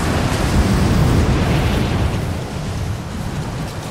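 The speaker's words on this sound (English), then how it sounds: "This wind is crazy." In the video game Rise of the Tomb Raider, a strong mountain wind roars at a summit, a loud, dense, broadband rush that is steady and turbulent throughout, easing slightly toward the end.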